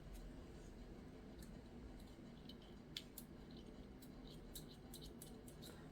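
Small scissors snipping embroidery thread during cross stitch work: several crisp, faint snips spaced irregularly over a steady background hiss, with no talking.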